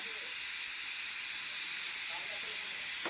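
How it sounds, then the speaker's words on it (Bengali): Garlic, ginger and chili masala paste fries in hot oil, giving a steady, even sizzle that stays constant for a few seconds. "গরম গরম মশলাটা ভাজছি"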